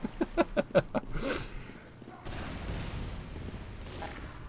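A short, rapid burst of about five SMG shots in Team Fortress 2 opens the clip, followed by a louder whooshing blast and a steady wash of game noise.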